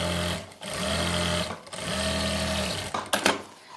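A sewing machine runs two rows of stitching on a Patiala salwar, humming steadily and loudly in three long runs split by brief pauses, then ending with a few clattering knocks.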